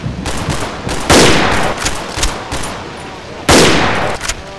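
Pistol shots ring out in the horror game Cry of Fear, a burst of sharp reports with two louder blasts standing out amid steady gunfire noise.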